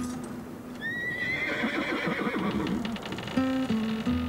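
A horse in an animated film neighs with a bright, rising whinny, then gives several shorter snorting neighs over light hoof clip-clop, close and clear, with no speech.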